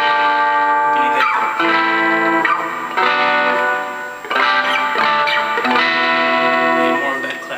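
Distorted chords ring out from a Mexican-made Fender Stratocaster fitted with a Seymour Duncan Hot Rails SR-1 pickup. Several loud strummed chords sustain and change in a steady rhythm with brief gaps between them.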